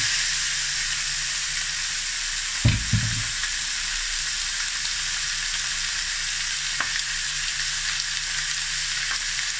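Chicken goes into a hot pan without oil for afritada with a brief thump, then keeps up a steady, even sizzle and hiss throughout, close and unbroken by any talk.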